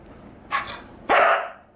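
A pet dog barks twice indoors, a short bark followed by a longer, louder one about half a second later, close and clear with no talk over it.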